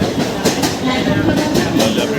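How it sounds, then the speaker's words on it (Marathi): A Mumbai local train near Sandhurst Road rolls along loudly and up close, its wheels giving a steady clickety-clack rhythm over a rushing rumble. "ट्रेन बघू शकता"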